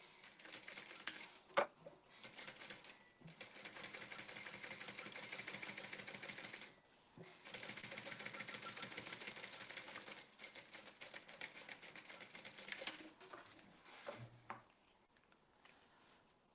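A sewing machine topstitches fabric in several steady runs of rapid mechanical chatter, separated by brief pauses and a few small clicks, fairly quiet and close.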